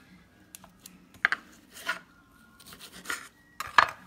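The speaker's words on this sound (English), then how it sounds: "You're going to lay it flat and you're just going to cut the white part off." A paring knife slices the white pith off a pepper laid flat, giving a few scattered crisp cuts and scraping rasps, fairly close and quiet, with no talking.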